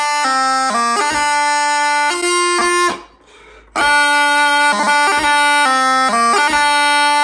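Highland bagpipe plays the first two bars of the slow air Morag of Dunvegan with the doublings placed off the beat, giving an uneven rhythm; loud drones and chanter, a short gap near the middle, then the tune resumes, no voices.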